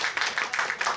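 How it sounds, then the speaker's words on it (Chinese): Brief burst of audience clapping welcomes a speaker at a g0v hackathon short-talk session, with quick, uneven claps at moderate volume and no talk over it. "掌声欢迎他"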